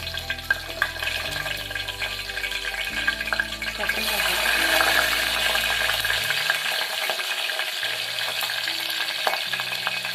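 Cinnamon and fennel seeds frying in hot oil give a steady close sizzle and crackle, growing livelier midway and continuing alone without talk.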